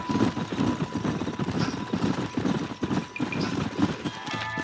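Horse hooves clip-clop steadily in the Red Dead Redemption video game as riders travel through the New Austin region, a continuous walking rhythm with faint background ambience and no talk.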